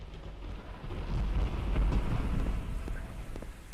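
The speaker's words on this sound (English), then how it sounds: "is this storm ever going to end?" A video game thunderstorm rolls low and heavy with a deep, swelling rumble of thunder. Rain and wind noise wash through it, peaking near the middle before easing slightly.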